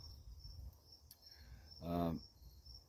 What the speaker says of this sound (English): So here it's crickets now.